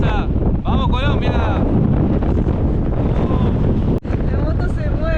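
Strong wind buffets the microphone on a motorcycle riding a gravel stretch of Argentina's Ruta 40 in a constant loud roar, with faint voices and engine hum barely showing through.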